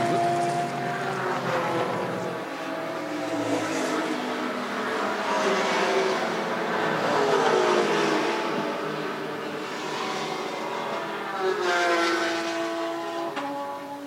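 Racing cars, including a Caprice, scream down the front straight of a motorsport circuit, several engine notes rising and falling in overlapping Doppler sweeps, moderately distant and continuous.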